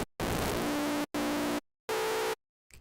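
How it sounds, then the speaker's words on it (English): A Serum software synthesizer's noise oscillator with FM from noise plays three separate bursts of harsh, buzzing static with a faint pitched tone inside, split by short silences. "you turn on the noise oscillator, you turn it down, and then you do FM from noise"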